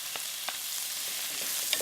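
Diced onions sizzling in butter in a hot pan on medium heat, a steady soft crackling hiss with a few small pops, fairly quiet and close, no talking.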